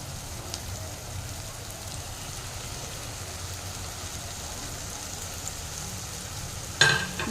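Chicken mince fries with spices in a pan, giving a soft, steady sizzling hiss at moderate distance, followed by a brief louder clatter near the end.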